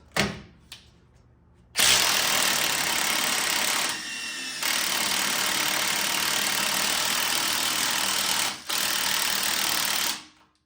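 Impact wrench hammering on an 18 mm sway bar link nut on a Jeep Renegade: loud, close, harsh buzzing rattle in long sustained bursts, with short pauses between triggers and a few clicks before it starts.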